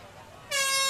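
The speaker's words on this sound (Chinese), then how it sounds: "场边鸣笛呢" An air horn sounds at the side of a youth mixed ultimate frisbee field during a national championship match. It starts abruptly halfway through as a loud, sustained blast over crowd ambience.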